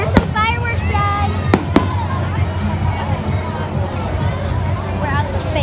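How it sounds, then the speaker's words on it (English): Fireworks burst at a fair: a few sharp cracks and pops stand out over crowd babble and nearby chatter, with whistling tones rising through the noisy outdoor scene. "There's some fireworks, guys."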